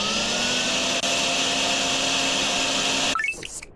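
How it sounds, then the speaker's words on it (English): A vacuum sucks water out of a drain in the game DrainSim, a steady loud whining drone with high tonal hum that runs alone and then cuts off abruptly near the end. "See if we can just vacuum the rest of this water out."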